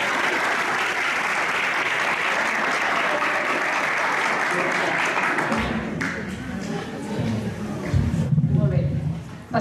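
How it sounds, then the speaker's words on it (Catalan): A school literary awards ceremony audience, at the Jocs Florals, gives a strong, dense round of applause that fills the room for several seconds, then thins out with a few scattered claps as voices murmur in the hall. "Només per l'emoció es mereix un altre aplaudiment."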